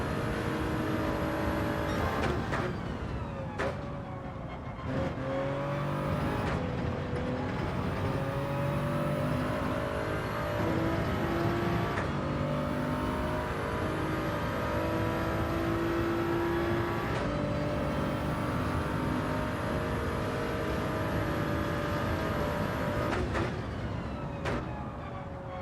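Race car engine in Gran Turismo 7, a 4WD car driven hard, droning steadily with rising and falling pitch through gear changes and throttle lifts, loud and continuous with no talk.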